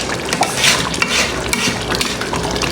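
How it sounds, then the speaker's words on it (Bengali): Meat stir-fried in a pot, a loud close sizzle broken by rapid scraping and clinks of a metal spoon against the pot. "সুন্দরভাবে মাংসটা আরো কষানো হবে"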